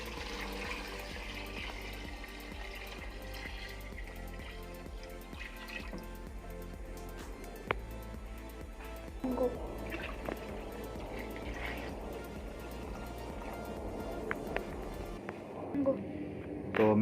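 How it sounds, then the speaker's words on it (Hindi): Water poured into a pressure cooker holding partly cooked chicken for a Peshawari chicken broth, a continuous liquid splash and trickle with occasional drips and clinks, moderately close and fairly soft. "तो मैंने ये 15 गिलास पानी इसमें डाला है।"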